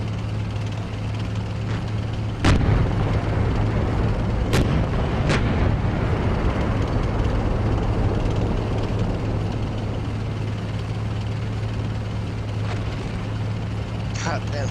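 Incoming fire on a Leopard 2A4 tank in the Steel Beasts simulator during a town defense: a few sharp, distant booms of artillery or gunfire strike over a steady low engine rumble, with talk faintly underneath.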